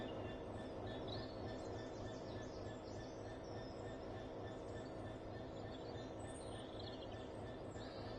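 A train in Train Sim World 4 rumbling steadily with a continuous rolling drone and faint wheel squeal, heard at a fairly low level throughout.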